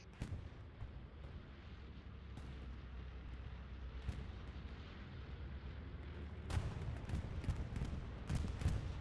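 Bombs from a bombing run thud in Hell Let Loose during a 49v49 match on the Carentan map, faint and distant at first, then a cluster of sharper, nearer blasts toward the end.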